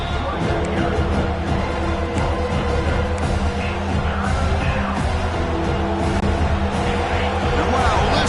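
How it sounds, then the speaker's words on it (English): A roaring stadium crowd at an Alabama vs Notre Dame college football game, a dense, continuous wall of cheering and rumble that holds loud and steady throughout. "listen to this crowd noise. This stadium is vibrating."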